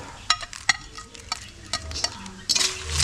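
Needle fish masala being stirred in a pan together with fried papadam, with a soft sizzle under brisk scraping strokes and a few sharp clinks of the spoon against the pan.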